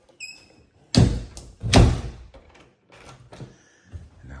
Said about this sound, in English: we always lock this door.